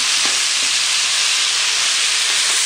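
Paella valenciana rice frying in oil in the pan to form the socarrat, a loud, dense, continuous hissing sizzle heard close up with faint occasional crackles and no talking.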